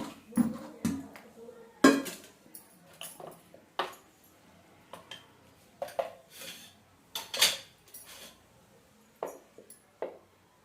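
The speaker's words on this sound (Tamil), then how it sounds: "சட்டியில் குத்தி கலந்துக்கணும்" A metal spoon scrapes and knocks against a cooking pot while red ponnanganni greens kuzhambu ingredients are mixed, a series of close, irregular clanks and taps with quiet gaps between them.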